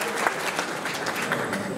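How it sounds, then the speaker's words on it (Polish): Warm applause from the audience at a school and preschool event in Jasienica, a steady wash of many hands clapping together for a couple of seconds. "Gorące brawa."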